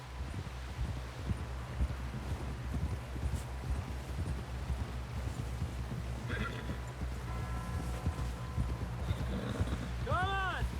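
A horse gallops through Red Dead Redemption 2, with fast, steady hoofbeats under wind and ambient game sound, and voices calling out toward the end.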